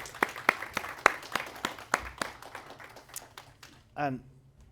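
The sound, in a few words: applause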